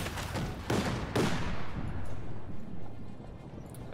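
Machine gun fire in Company of Heroes 2 on a bocage field map, two sharp bursts early on followed by a long rumbling decay and distant battlefield noise.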